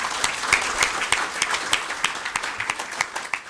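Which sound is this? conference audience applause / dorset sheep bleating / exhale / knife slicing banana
conference audience applause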